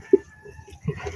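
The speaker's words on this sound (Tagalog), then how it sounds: "Yan po ang native na manok." A native chicken gives a single short cluck close by, followed by faint soft fowl murmurs against a quiet background.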